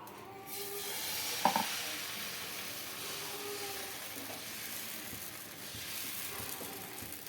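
Dosa batter hits a hot pan and sizzles steadily for several seconds, a broad, even hiss with a brief clatter early on. Healthy dosa made without rice, urad dal or poha.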